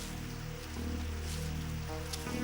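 Steady rain in a stormy cartoon jungle scene, a continuous hiss of falling water lasting throughout with low tonal music underneath, no voices.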